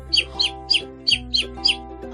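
A sparrow chirps six times in a steady, evenly spaced rhythm: short, bright, close calls over a sustained musical tone.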